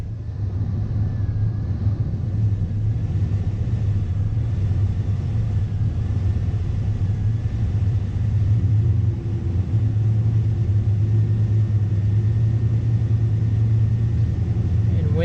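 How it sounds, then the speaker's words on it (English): A 1996 Dodge Ram pickup with a 5.9 V8, warmed up after about five minutes, idles with a steady low rumble, close and continuous with no revving. "the truck's been running for about five minutes or so"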